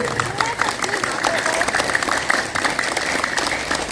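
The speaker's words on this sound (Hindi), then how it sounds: "थोड़ी तालियां अपने लिए भी बजा लीजिए।" Energetic applause from a yoga day group fills the room, dense and steady, with a few voices faintly audible underneath.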